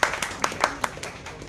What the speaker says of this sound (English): So please make a big applause for them.